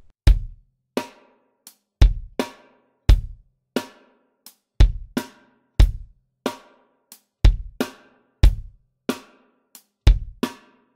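Drum kit playing a punk rock beat in a lesson setting, a steady pattern of sharp kick and snare hits with bright cymbal wash, loud and close, about two beats per second with no talking.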